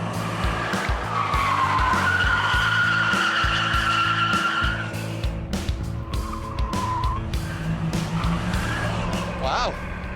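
A Chevrolet Camaro with a swapped Vortec engine races hard, its engine roaring loud and constant while tires squeal and skid in long drawn-out screeches, up close.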